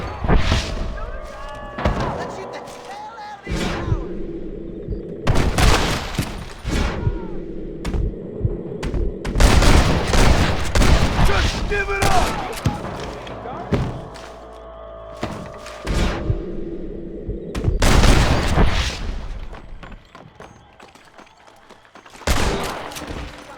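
Shootout in the Western video game Red Dead Redemption: repeated loud clusters of gunshots and rapid volleys arriving in irregular bursts with thuds and brief quiet gaps, over a sustained ambient game mix with occasional voices.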